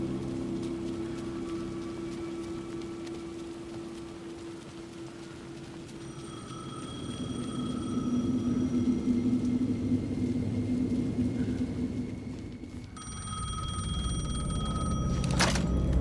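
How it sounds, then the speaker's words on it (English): A telephone rings in the video game Alan Wake 2, its electronic trill starting mid-clip and returning louder near the end over a low ambient rumble. "Phone again."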